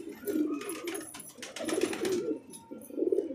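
Soft, repeated coos from a pair of tumbler pigeons come in low rolling bursts close by, rising and falling in a gentle rhythm with brief pauses between.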